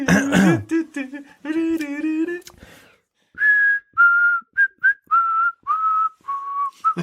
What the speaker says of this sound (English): I can whistle while inhaling and exhaling